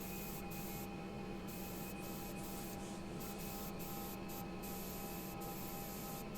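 A spray gun hisses steadily while furniture is spray painted inside a spray booth, a constant close-up rush of air with a faint mechanical hum and brief pauses in the spray.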